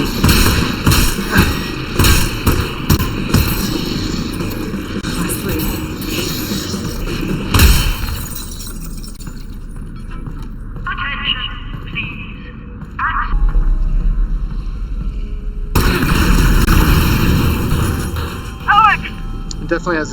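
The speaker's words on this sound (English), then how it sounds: "definitely has a good explosion vibe to it" Deep booming explosions from Half-Life: Alyx, played with a haptic vest, land as heavy thuds and rumbles, loud and close, followed by crackling debris and a lingering low hum.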